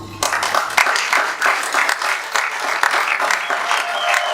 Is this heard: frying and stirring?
no